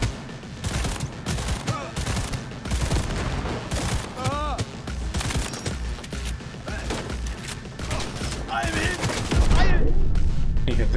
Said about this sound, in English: I really hate how gas explosions just like instantly kill you no matter what.